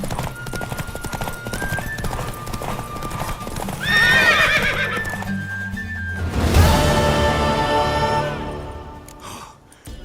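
A horse in Witcher 3 clip-clops close by with rhythmic hoof beats and lets out a loud, prominent whinny midway, set against in-game music.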